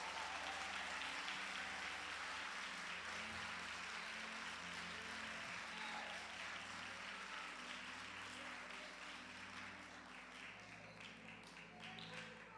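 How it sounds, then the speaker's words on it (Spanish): A church congregation keeps up continuous applause, a broad, even roar of many hands clapping at a moderate level for over twelve seconds, thinning only slightly toward the end. "Denle aplauso al Señor"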